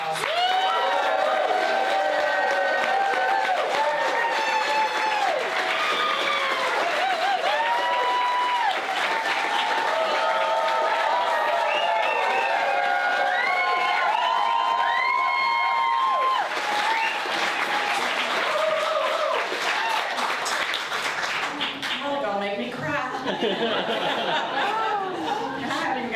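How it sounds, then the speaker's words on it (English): A crowd at a campaign kickoff party claps and cheers in sustained, dense applause for about twenty-five seconds, with chatter and a few chuckles mixed in. "give her a round of applause"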